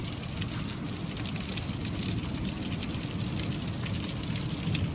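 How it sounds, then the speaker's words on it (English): Hail falling outside during a storm, a dense, steady roar of pelting impacts that holds at an even, fairly loud level throughout with no voices. "some decent sized hail coming down"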